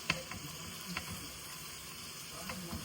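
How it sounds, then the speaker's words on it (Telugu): Mutton dropped into a pan of frying onions, tomato and ginger-garlic paste, giving a steady soft sizzle with a few stirring clinks and taps over the top. "ఈ టైంలో మనం మటన్ కూడా వేసేస్తున్నాం."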